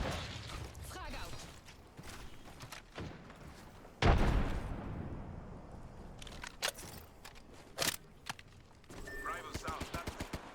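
A frag grenade bursts in Apex Legends with a sudden loud blast midway, among scattered gunfire and game effects, while voices talk over the match.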